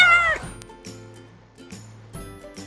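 A cat meows once with a drawn-out, wavering cry, then the rest is quiet with faint background tones.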